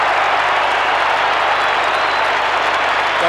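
Large Collingwood Magpies crowd at a 1990 AFL Qualifying Final against West Coast Eagles applauding and cheering a goal, a loud, dense, continuous roar of clapping filling the whole moment.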